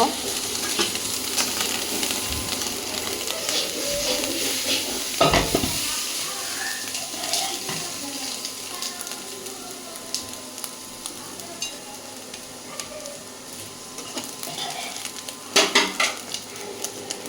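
Crispy fried tilapia fish jhuri is scooped from a hot pan onto a plate, giving a steady soft sizzle with metal utensil scrapes and a couple of sharper clatters, close by with no talking.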